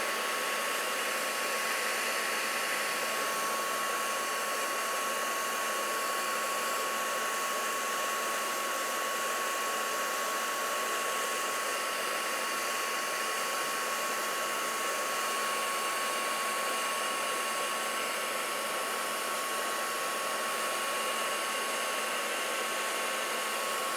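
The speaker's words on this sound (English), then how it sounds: "Let me get all the little spots on the embossing powder melted." A heat tool blows continuously over embossing powder on a handmade card, a steady, close hair-dryer-like whoosh of even loudness that runs unbroken with no talk.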